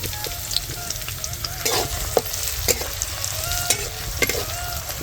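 Coconut and garlic fry in oil in a pan, giving a loud, busy crackle with repeated spitting pops and stirring scrapes, no one talking.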